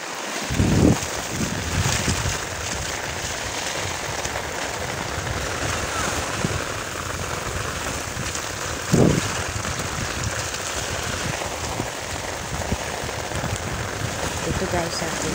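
Stormy sea waves and gusting wind roar in a steady, dense wash at a beach during a low-pressure storm, with people talking over the noise and a couple of louder bursts.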